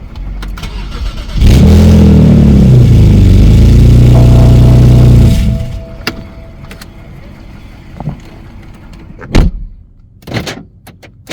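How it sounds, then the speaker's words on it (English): A 2008-2013 BMW 1 Series engine cranks and fires up loudly nearby, idles with a droning hum for about four seconds, shuts off, and then a few sharp clicks and a door thud follow. "start the engine for a few seconds, then shut the engine off"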